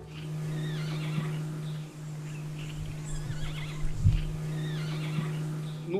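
A jay softly mimics a horse, giving repeated neigh-like whinnying calls over a steady low hum, with faint thuds and no talking.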